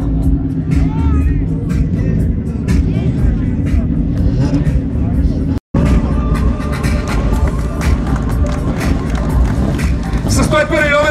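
A Mitsubishi Lancer Evo 9 rally car at a Varna rally event, its engine roaring steadily throughout and passing close, with a crowd murmuring and a commentator talking over it.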